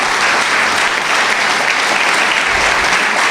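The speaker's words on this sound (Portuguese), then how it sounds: "Eu queria que você aplaudisse ao Senhor pela vida do Paulo." Dense, steady applause from a church congregation fills the space, loud and continuous throughout with no break.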